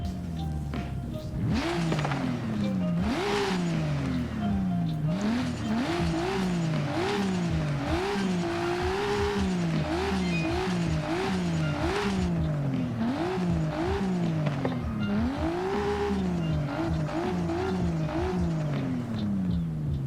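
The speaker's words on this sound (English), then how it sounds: "we're gonna go ahead now and listen to the engine off real quick" Nissan R33 Skyline in Forza Horizon 5, its engine revved repeatedly in quick bursts, rising and falling pitch with each blip, loud and close with no talking.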